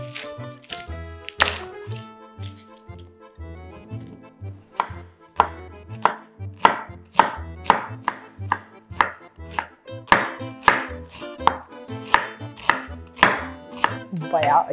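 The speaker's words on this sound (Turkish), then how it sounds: "Onun için soğanlarımı doğrayarak başlayayım." A knife chops through onion on a cutting board in quick, steady strokes, each landing with a crisp thud, close and clear, with no talking.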